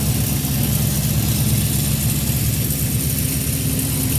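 A 1977 Honda CB400F motorcycle engine runs steadily at a held fast idle during carburetor synchronization, a loud, continuous close-up drone with an even pulsing throb and no voices.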